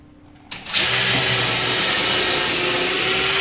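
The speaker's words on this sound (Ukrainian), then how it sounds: "Засвердлів дирку" After a moment of quiet, a power drill with a 2.5 mm bit whirs up suddenly and runs at a steady, loud, high-pitched whine until the end.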